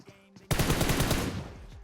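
Gunfire in PUBG Mobile, a loud close burst of rapid automatic shots that starts suddenly after a near-silent moment and rattles on for about a second before fading into echo.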